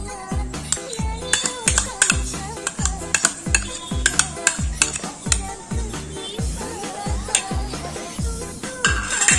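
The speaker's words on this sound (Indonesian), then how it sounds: "Kita tambahkan udang 2 ekor yang sudah dicincang." Fishing bait mixed with two chopped shrimp is stirred steadily in a container, giving a close, rhythmic run of scraping, squelching strokes with light clinks, with no talking.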